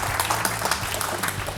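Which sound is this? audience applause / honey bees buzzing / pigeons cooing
audience applause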